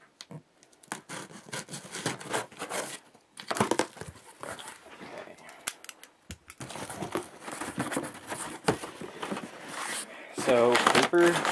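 Paper packing from an airsoft BB unboxing crinkles and rustles in bursts of handling noise, close to the microphone, with pauses between rounds of crumpling.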